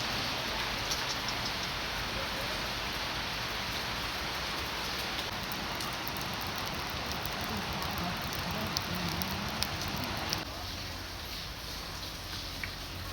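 Steady rain falling continuously, a dense even hiss with scattered drops, fairly loud and close throughout with no voices.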